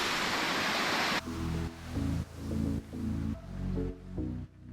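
Juney Whank Falls in the Great Smoky Mountains rushes as steady, full white noise for about a second, then music with a rhythmic beat takes over and the water noise fades beneath it.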